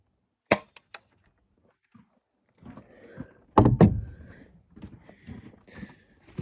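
A Marksman pellet gun fires with a sharp, loud crack, followed by a few small clicks and then rustling handling noises and muffled movement nearby.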